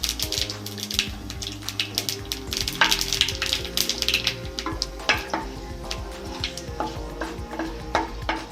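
Bay leaf, dried chilli and cumin seeds tempering in hot oil for a fish curry, a close, lively sizzle broken by sharp crackles and spatters, with stirring and the clink of a utensil against the pan.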